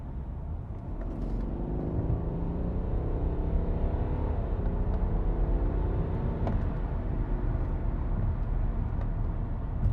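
A BMW F10 530d with its 230 kW diesel engine accelerates onto a highway, giving a steady, low in-cabin drone and rumble throughout, rising gently in pitch with no talking.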